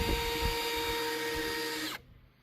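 A power drill whines steadily at close range during an outdoor outhouse build, its motor tone holding for about two seconds and then cutting off abruptly, leaving quieter background.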